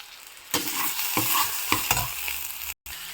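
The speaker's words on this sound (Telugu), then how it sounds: "అన్ని వెజిటేబుల్స్ ఫ్రై అయిపోయాయి" Vegetables and mushrooms for vegetable fried rice sizzle in a hot pan while being stirred, a steady frying hiss punctuated by several scraping spatula strokes, close and clear, with a brief cut near the end.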